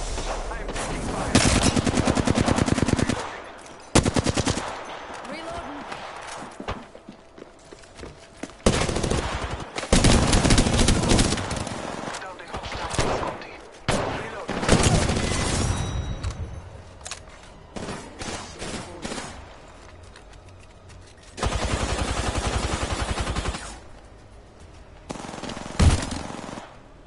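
Gunfire in the video game Apex Legends, loud bursts of rapid automatic fire alternating with short pauses, dense and close, with brief game voice lines mixed in.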